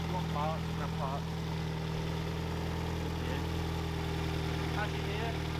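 An old car's engine idles steadily in a workshop or yard, a constant low hum with faint tonal whine, while people talk faintly over it.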